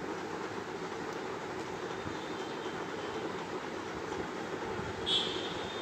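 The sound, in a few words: amusement park train ride running under artificial rock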